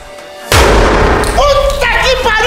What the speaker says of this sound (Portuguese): Olha a garrafa enchendo, ela vai explodir!